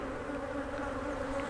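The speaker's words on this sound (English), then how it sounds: "there's bees flying all around here looking for whatever" Honeybees buzz in a steady, dense drone as they fly all around a hive fitted with a robber screen, a continuous close swarm hum with no talking.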